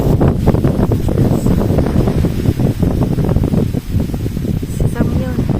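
Strong wind buffets the microphone on a windy beach at Tambobong, a loud continuous roar with gusty rustling, while people talk over it.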